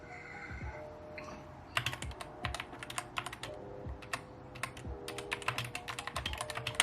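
Typing on a Red Dragon computer keyboard at a desk, a quiet run of soft, irregular key clicks and thumps heard up close with no talking.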